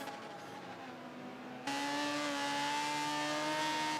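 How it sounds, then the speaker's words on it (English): Racing car engines whine at a sustained high pitch, the tone jumping louder and higher partway through as the cars accelerate. "God, they don't half sound naff, these cars, don't they?"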